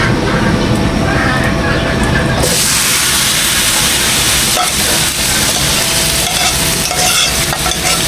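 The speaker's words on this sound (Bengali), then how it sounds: "পেঁয়াজটা আমার ভাজা হয়ে গেছে, এবার আমি গোশগুলো দিয়ে দিব" Chicken pieces frying in oil with onions in a pan over a wood-fired village stove, a loud steady sizzle with stirring scrapes, joined by a sharper hiss partway through as the meat goes in.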